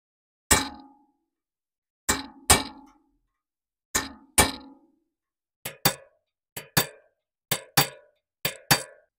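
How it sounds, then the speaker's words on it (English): Sharp metallic strikes of a hammer on a punch ring out one after another as spoke heads are knocked into place on a bicycle wheel, often in quick pairs, each with a short bright decay and silence between. "use a hammer and a punch on the spoke heads, specially designed for it so it's concave"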